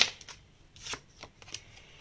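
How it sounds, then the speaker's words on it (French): Tarot cards being shuffled and drawn during a love reading, a few crisp riffling snaps and flicks up close, spaced out in short bursts with quiet gaps between them, no voices. "On va sortir une dernière carte."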